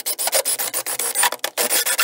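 A hole saw on a basic 18-volt cordless drill grinds harshly through material in quick, repeated rasping bursts, loud and close, with no talking.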